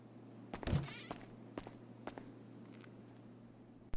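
Character's footsteps walking forward in GTA Online: a handful of soft, evenly spaced steps over a steady low hum, fairly faint and without talk.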